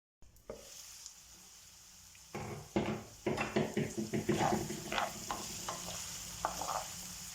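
Onions sizzle steadily in a covered pan, with a few clinks and scrapes of a utensil partway through, close and fairly quiet.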